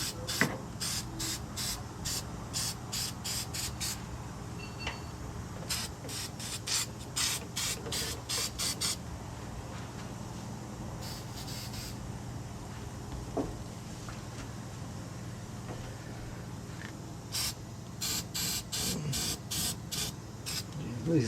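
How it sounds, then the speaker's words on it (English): A rust treatment spray can sprays inside a car body mount area during a project-car repair. There are repeated short hissing bursts in quick series, broken by pauses, over a steady background hum, with occasional faint voice. "So we're going to spray this in there the best we can."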